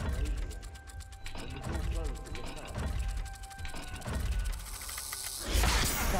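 A dial puzzle mechanism turns in Hogwarts Legacy, giving a run of fast ratcheting clicks and grinding gear sounds over a low ambient hum, with a brief heavier clunk near the end.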